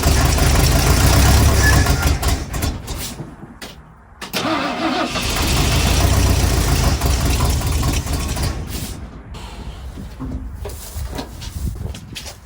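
A 1974 Ford F250 SuperCab with a 460 V8 and a big Edelbrock carburetor, parked for 14 years, cranks and fires up, then runs loud and rough up close, with a brief dip as it stumbles before catching and settling into a steady idle.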